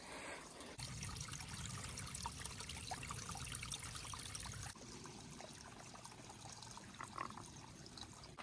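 Steady trickling water babbles close by on the Appalachian Trail, a continuous gentle stream with small splashes and no voices.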